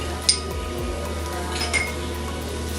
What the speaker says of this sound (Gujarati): તેને બરાબર મિક્સ કરી લઈશું